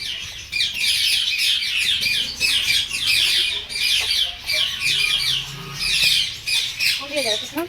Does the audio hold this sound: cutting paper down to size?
no